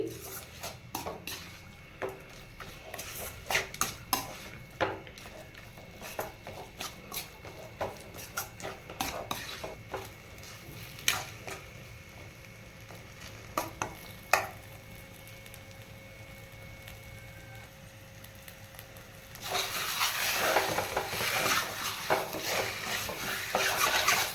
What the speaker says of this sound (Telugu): ఇట్లా ఒక 5 నిమిషాలు వేయించుకోవాలండి మామిడికాయ పచ్చడి.